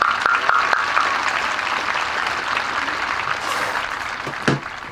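Audience applause at a high school graduation ceremony, a dense, steady wash of many hands clapping throughout, with a brief louder burst near the end.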